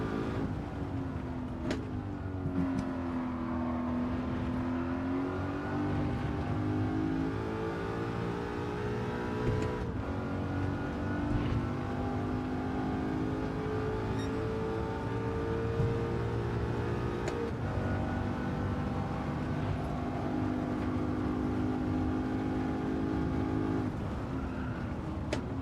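A BMW Z8 engine in a racing video game time trial drones steadily throughout, its pitch rising and falling through gear changes and throttle shifts, loud and continuous with no talk over it.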